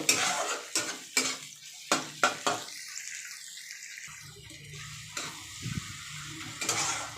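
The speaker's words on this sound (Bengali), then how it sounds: "টমেটোটা পেঁয়াজের সাথে একটু মিশিয়ে ভেজে নেব" Tomato and onion with green chillies being stirred in a frying pan, with intermittent scraping strokes and a soft, low sizzle between them.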